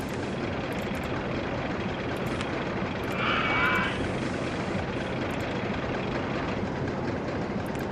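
Roller coaster trains running in an OpenRCT2 ride simulation, a steady broad rumble of rolling cars under a brief higher-pitched mechanical whine midway, with faint repeated clicks above.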